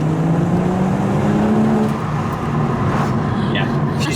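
A BMW M140i engine accelerates hard and loud from inside the cabin, a steady strong drone rising in pitch throughout, with people talking over it.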